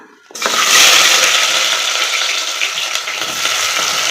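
A sudden loud burst of sizzling as sliced big onions drop into hot oil already crackling with mustard seeds for mutton biryani, settling into a steady, close, hissing fry with no talking.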